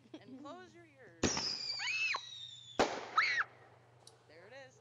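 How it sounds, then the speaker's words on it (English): A single firework bursts with a sharp crackling blast followed by a second burst and a rising whistle, heard alongside voices talking before and after. "A singular firework."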